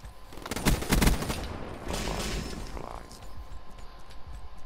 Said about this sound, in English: There's a lot of explosions going here.